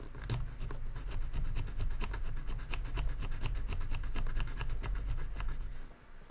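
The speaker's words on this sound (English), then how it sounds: "let's do our little bit of filing here" A file rasps on a custom Hot Wheels die-cast car in quick repeated strokes, a close, steady scraping rhythm for several seconds before it stops.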